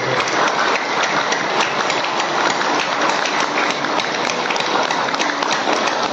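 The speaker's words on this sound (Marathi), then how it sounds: "जोरात टाळी प्रयोग" Loud, continuous applause from a crowd gathered for an International Yoga Day event, a thick, even roar of clapping that holds its level throughout.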